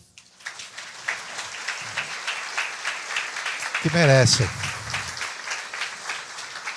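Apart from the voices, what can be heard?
audience applause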